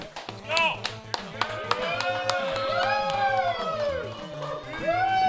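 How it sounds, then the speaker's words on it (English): Scattered clapping and crowd noise mix with a busy electronic soundtrack of chirps and tones from the video game Tecmo Bowl, people talking over it. "let's give these guys a round of applause."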